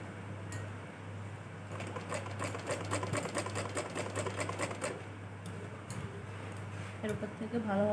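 A domestic sewing machine top-stitches a blouse belt with a fast, steady mechanical whir and ticking needle rhythm, close and continuous over a low hum, with a brief pause midway.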